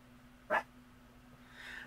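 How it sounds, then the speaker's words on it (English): A dog gives a single sharp bark indoors, brief and fairly close against a quiet humming room, followed by faint breathy sounds. "Our neighbors are out there carrying on like a bunch of fools, and the dogs don't like it."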